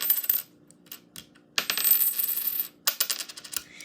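A 1962 silver Canadian dime dropped onto a hard surface, ringing with bright metallic clinks and bounces that settle into a short spinning rattle, close and clear.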